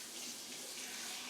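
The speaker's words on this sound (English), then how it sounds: "Rinse this off." Water from a kitchen tap runs steadily to rinse off a spoon, a faint, even hiss of flowing water lasting about a second with no talk.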